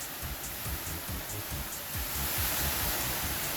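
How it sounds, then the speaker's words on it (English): Rain pours down outdoors behind a workshop, a soft, continuous hiss that stays steady and fairly faint throughout, with some low rumbling underneath and a slight rise toward the end. "Probably hear that rain pouring down behind me."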